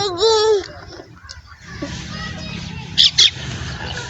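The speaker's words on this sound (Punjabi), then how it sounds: "ਕਿੰਨੀਆਂ ਚਿੜੀਆਂ ਬੈਠੀਆਂ ਦਰਖਤਾਂ ਦੇ ਉੱਤੇ" Sparrows in trees in the Thal Desert give a few quick, high chirps near the end, after a brief wavering voice-like call at the start, over a low steady rumble.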